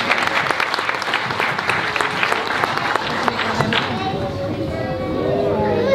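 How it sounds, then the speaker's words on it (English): An audience applauds a volunteer at a live science demonstration, dense clapping starting at once and thinning after about four seconds into crowd chatter and murmuring voices. "Give my friend a clap."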